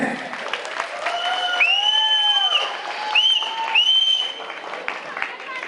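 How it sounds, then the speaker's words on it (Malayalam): An audience claps steadily at an HSBC Onam 2016 raffle draw as a silk saree prize is handed to a winner. The applause is sustained and moderately loud, with sustained tonal sounds and a voice layered over it. "എല്ലാരും ഒന്ന് കൈയടിച്ചേ."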